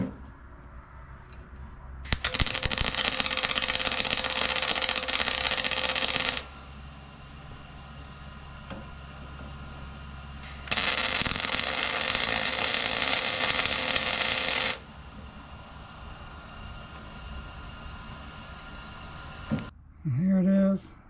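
Tack welding on a fabricated overdrive transmission mount for a 1955 Triumph TR2 gives two sustained, loud hissing-crackling arc bursts of several seconds each, separated by quieter workshop pauses, ending with a short clunk.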